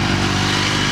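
A passing motorcycle makes a loud, close, continuous engine drone with a steady buzzing throb that fills the whole second.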